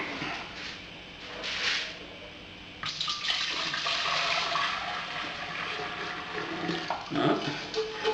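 Boiled stout liquid is poured into a keg, giving a continuous splashing, gushing pour with some clunks of the container, close and loud, with no talk over it.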